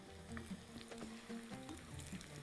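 Onions fry in a pan for a home-cooked Madrooba, a steady soft sizzle with faint crackles and occasional stirring clicks, quiet and close, with no one talking.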